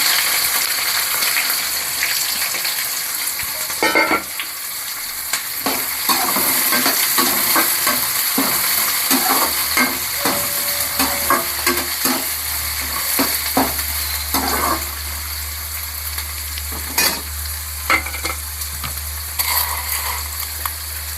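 Chopped onions, garlic and curry leaves sizzle and crackle steadily in hot oil, with intermittent scraping and clinking of a utensil stirring the pan, close and continuous.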